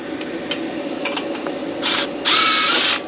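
A power tool with a 17 mm socket loosens the brake bolts on a 2015 Toyota RAV4 in two bursts, a short rattle followed by a longer, louder whir, over quiet background noise.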